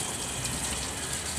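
Water sprinkled by hand over a market vendor's produce, including bananas, at a stall; a steady, close, continuous hissing splash with no pauses and no talking.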